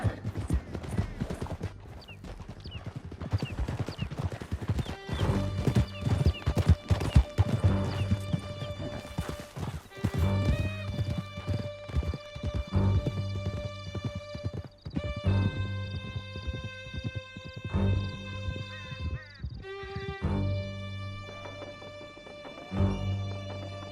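Horses gallop in Red Dead Redemption 2 with steady, close clip-clop hoofbeats and occasional whinnies, accompanied by tonal music swelling over the ride. No one speaks.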